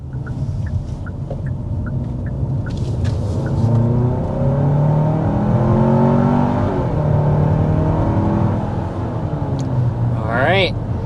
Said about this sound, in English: we want to go ahead and start with a hard acceleration so you can see what this Santa Fe is all about